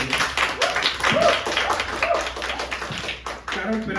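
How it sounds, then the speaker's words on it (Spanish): Audience clapping at a book presentation, a short burst of moderate applause lasting a few seconds in a room with voices faintly present. "Un aplauso."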